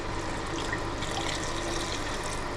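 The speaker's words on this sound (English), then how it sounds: "Then we're gonna add in some broth and bring it to a boil." Broth pours into a cooking pot inside a camper, a steady close rush of liquid that holds evenly throughout with no talking.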